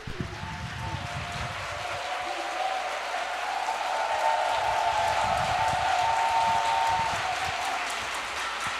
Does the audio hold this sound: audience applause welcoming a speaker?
yes